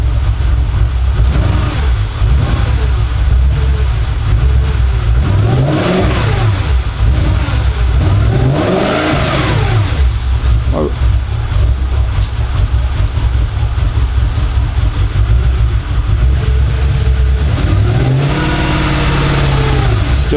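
Audi engine misfiring and running lumpy, low on fuel, heard from inside as it revs and falls back in repeated rising and falling sweeps over a loud, steady drone.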